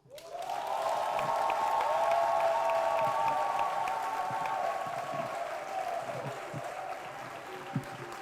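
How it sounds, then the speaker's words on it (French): An assembly at a national retreat of the Friends of Saint Joseph at a major seminary in Côte d'Ivoire applauding in approval, clapping and some cheering rising quickly, with a sustained tone running through, and fading gradually near the end. "Le choix a été entériné par l'Assemblée par acclamation"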